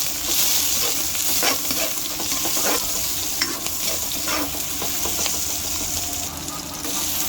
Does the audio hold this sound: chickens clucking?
no